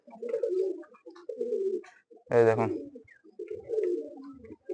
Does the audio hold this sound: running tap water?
no